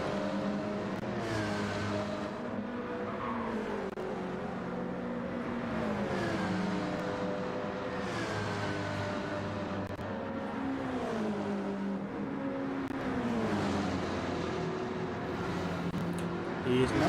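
A Toyota and a Porsche Cayman GT4 race in Gran Turismo 7 on the Piedmont circuit, engines droning and shifting pitch steadily as they accelerate and run close together, heard at moderate level under a commentator's voice.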